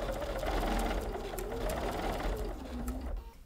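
A sewing machine stitches a faux fur seam for a throw, a close rapid whirring hum with rhythmic needle clatter that runs steadily and briefly slows before stopping.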